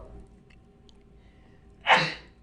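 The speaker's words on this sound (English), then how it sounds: "The sneezing was the end of it." One sharp human sneeze bursts out near the end of a quiet stretch, loud and close, with faint room noise around it.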